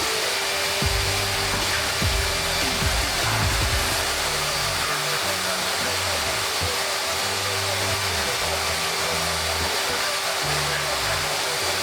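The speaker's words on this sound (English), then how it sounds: "A final light vacuum was given before closing the bonnet for the very last time." A vacuum cleaner gives a light going-over to the engine bay under the bonnet of a Porsche 911 996 C4S, a steady, continuous rushing drone with a constant hum and no talking.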